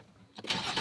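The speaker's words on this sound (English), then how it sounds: "I've never been this excited to start a car and fill the AC." A car engine cranks and catches in a sandy desert campsite, a short quiet lead-in followed by a loud, broad burst of starting noise that carries on steadily to the end.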